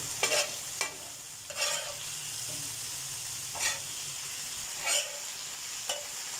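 Restaurant-style Lahori chicken leg pieces roast on a hot tawa under a steady sizzle, broken by several sharp scraping clanks at irregular intervals as the pieces are turned, with no talking.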